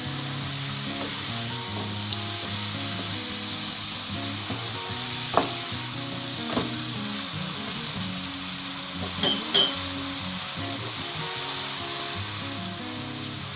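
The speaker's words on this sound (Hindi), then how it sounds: "सब्ज़ मिर्च, मसाले में भून लेनी है आपने" Green chillies frying in a spice masala for chicken samosa filling make a steady, close sizzle, with a few sharper pops and scrapes of stirring rising above it now and then.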